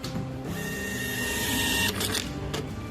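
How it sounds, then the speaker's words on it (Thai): A Bluetooth receipt printer prints a receipt, a close, steady mechanical whir and buzz that runs for about two seconds and then ends with a couple of short clicks. "เราสามารถที่จะพิมพ์ได้เลย"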